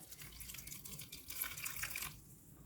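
Water pours steadily onto tamarind in a bowl with a soft splashing trickle, fairly quiet and close, then cuts off near the end.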